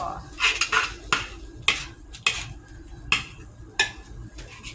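Metal utensils scrape and clatter against a wok in repeated strokes while stir-frying thin rice noodles for pad see ew without vegetables, with a faint sizzle underneath and no talking.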